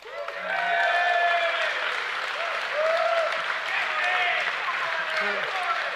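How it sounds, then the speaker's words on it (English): Live audience at a football podcast show applauding, a sustained wash of clapping with some cheering voices mixed in, rising after a short start and holding loud for several seconds. "It was a kind of Green Party question time clap"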